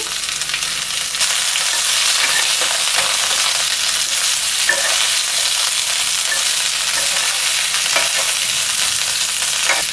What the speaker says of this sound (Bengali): ফুলকপিগুলো একবার নেড়ে দিচ্ছি